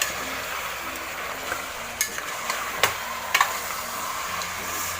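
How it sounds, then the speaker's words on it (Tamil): Chicken frying in a pan while being stirred, with a steady sizzle and occasional scraping knocks from the spoon, close and fairly quiet. "இப்போ வந்து சிக்கன் கொஞ்சம் மிக்ஸ் பண்ணி விட்டுட்டு ஒரு 10 நிமிஷம் அப்படி விட்டுடலாம். அது நல்லா ஃப்ரை ஆகும்."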